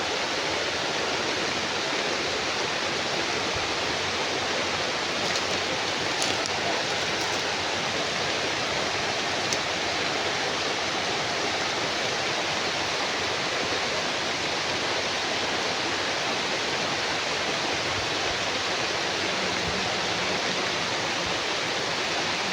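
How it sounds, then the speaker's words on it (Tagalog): Steady, dense roar of heavy rain pouring continuously, broadband and unbroken with no voices. "Malakas ulan dito ngayon"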